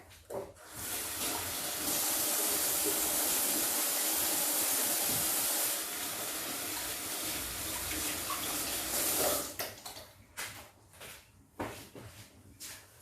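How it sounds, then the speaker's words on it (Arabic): Tap water runs loudly and steadily into a sink as hands are washed, then the flow stops and a few clatters and handling sounds follow. "نغسل يدي من الجلوكوز وغادي نرجع"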